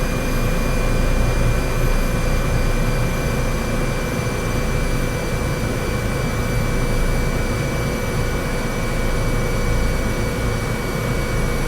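Simulated Airbus H225 heavy helicopter in Microsoft Flight Simulator 2024 gives a loud, steady turbine and rotor drone with a constant high whine, unbroken and close throughout.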